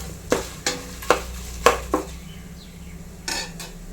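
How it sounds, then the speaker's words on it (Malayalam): A spoon scrapes and clinks against a pan as turmeric and fenugreek powder are stirred in hot oil, five or six sharp close strokes in an uneven rhythm over a faint background. "നല്ലപോലെ ഒന്ന് മിക്സ് ചെയ്ത് കൊടുക്കാം. ഈ എണ്ണയിൽ കിടന്ന് ഈ പൊടി നല്ലപോലെ ഒന്ന് മൂക്കണം."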